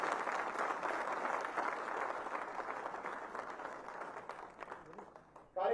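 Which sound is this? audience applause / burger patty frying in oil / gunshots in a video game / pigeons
audience applause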